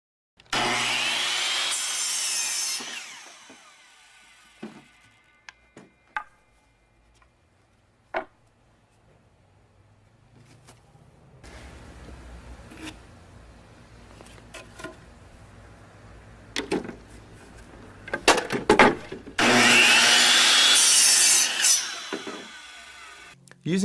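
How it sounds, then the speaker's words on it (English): Handsaw cutting through wooden deck legs for a skateboard halfpipe, in a few loud bursts of rasping strokes at the start and end with quieter scraping, taps and knocks between. "Measure the height of the transition and cut 3 deck legs that length."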